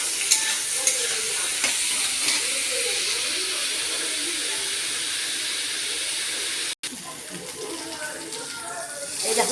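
Vegetables stir-fried with salt and turmeric in a pan give a steady, close sizzling hiss with stirring scrapes throughout, briefly cutting out once near the end.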